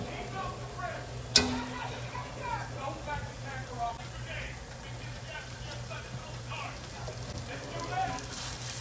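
Steaks sizzle in a pan with butter, a faint, continuous frying hiss with soft crackles and one sharp clink early on, while a voice talks over it.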